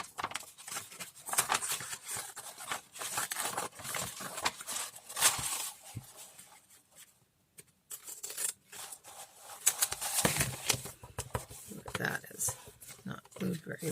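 Scissors snipping through glued paper scraps in a craft session, producing repeated close cuts and rustling paper, with a person talking over much of it.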